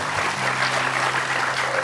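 Audience clapping for Arini on an Indonesian TV talk show set, continuous dense applause with a faint tonal hum beneath it.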